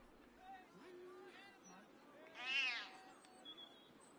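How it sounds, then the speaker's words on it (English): A cat meows in the video game Baldur's Gate 3. One clear, fairly faint meow rises amid quiet game ambience and soft background voices. "Ooh, a cat!"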